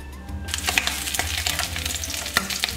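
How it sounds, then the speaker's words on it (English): A stuffed steak browns in butter in a hot pan, giving a steady close sizzle with small crackles and pops throughout after a quiet start. "we put the pan, little butter, and we give it color"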